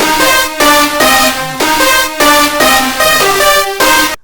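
Loud layered distorted string sound in a type beat, a buzzing chord pattern repeating in short bursts roughly every half second with brief gaps between hits.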